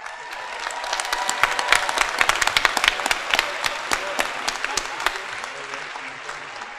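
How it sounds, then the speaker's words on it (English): An audience at a spring commencement applauds graduate students with a crisp, scattered clapping that is loud and sustained, while voices murmur underneath. "giving applause to the graduate students."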